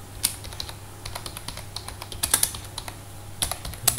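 Rapid typing on a computer keyboard, close and clear, with uneven bursts of key clicks and no speech.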